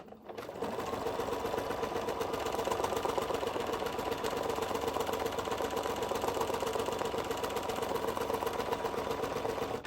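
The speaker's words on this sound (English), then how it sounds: "Making sure to go slightly beyond my original stitching" Sewing machine with a free motion foot stitching steadily, a fast, even mechanical whir and rapid needle clatter starting after a brief pause and running continuously, close and unaccompanied by talk.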